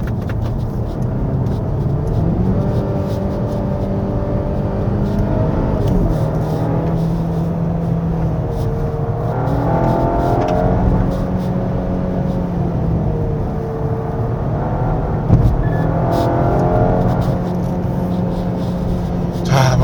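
A 2024 Volvo S60 B5 FWD pulls hard along a winding road, its engine note rising and falling through repeated acceleration and gear changes, heard loud from inside the cabin.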